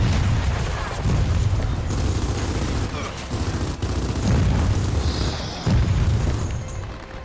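Heavy gunfire and booming explosions fill a Gears of War 4 firefight against blisters, with dense, continuous low rumbling bursts and sharper blasts around the 1, 3.5 and 5.7 second marks.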